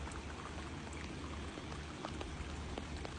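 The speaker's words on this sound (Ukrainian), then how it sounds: "Добре, що хоч дощик падає, та город не треба буде поливати." Steady rain patters down outdoors by a vegetable garden, a dense continuous hiss of drops on surfaces with occasional sharper splashes, no voices.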